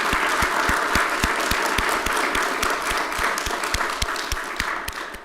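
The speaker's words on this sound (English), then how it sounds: "Let's give them all a round of applause." An audience at a Durham county commissioners' regular session gives a steady round of applause, dense and sustained for several seconds before tapering slightly.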